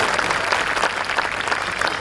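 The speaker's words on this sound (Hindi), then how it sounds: "एक बार जोरदार तालियां बजा दीजिए।" A comedy show audience in Aurangabad claps loudly and continuously, a dense sustained burst of applause from a large crowd with no pauses.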